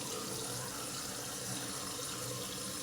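Water runs steadily from a tap into a sink during a rinse after a shave, a constant close hiss and splash with no breaks and no talk.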